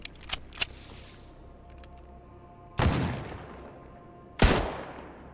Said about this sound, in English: Bro's using a shotgun.